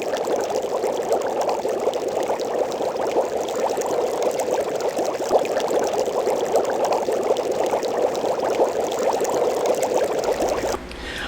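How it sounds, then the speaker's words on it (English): Steady bubbling, rushing water sound, continuous and fairly loud, like a pot of water and spices at a rolling boil for a shrimp boil, with no voices. "the water's been boiling with just the spices for about 20 to 30 minutes"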